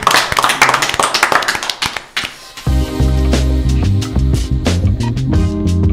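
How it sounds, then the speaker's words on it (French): Hands clap in a burst of applause for a couple of seconds before music takes over, with no one speaking. "Bravo, on t'applaudit, merci beaucoup"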